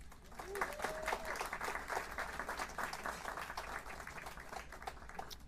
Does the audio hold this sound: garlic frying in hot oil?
no